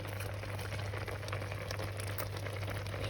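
Quince and apple marmalade simmering gently in a pot over low heat, a steady soft bubbling and faint crackle with a low constant hum underneath, no voices.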